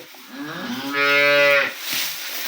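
A dairy cow gives one long, loud, close moo, followed by a shorter, softer second call.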